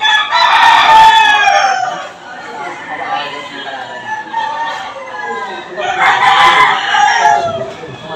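Several roosters crow at a Philippine cockfight in the early morning, two long, loud bursts of crowing with clucking and chatter between them, and people talking in the background.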